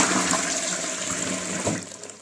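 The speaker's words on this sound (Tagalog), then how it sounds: "itry ulit natin i-flush" A clogged toilet flushes with a loud rush of swirling water that fades over about two seconds, heard up close with no talking.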